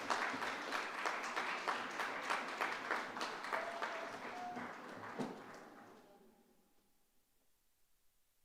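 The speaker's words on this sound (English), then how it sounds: "Let us welcome, with big round of applause" Audience applause at an International Women's Day celebration, a dense wash of clapping hands that holds steady for several seconds, then thins out and fades to near silence.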